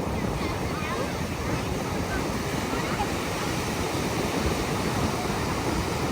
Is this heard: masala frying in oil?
no